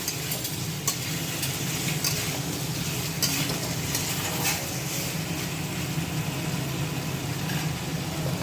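Chicken biryani masala sautéing in a pan, a continuous close sizzle with stirring scrapes and occasional sharper clinks, steady and fairly loud, no talking.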